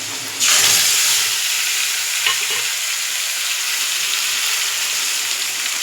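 Ginger, garlic, tomato and chili paste hits hot oil with fried potato and sizzles loudly, a sharp burst at the start that settles into steady frying hiss with a light stir or clatter partway through.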